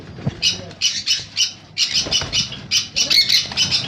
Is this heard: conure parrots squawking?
yes